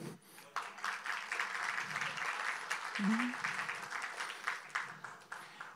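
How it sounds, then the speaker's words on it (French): Audience applause at a conference evening in Levallois, a steady crowd clapping at moderate level for several seconds, with a brief voice or tone near the middle. "Vous pouvez vous applaudir."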